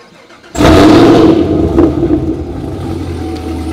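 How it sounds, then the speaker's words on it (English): A Camaro ZL1 with a 750-horsepower package fires up heard from inside the cabin: a sudden loud start after a quiet moment, then a strong, steady rumbling idle with brief revs. "Let's go ahead and start it up from the inside of the car."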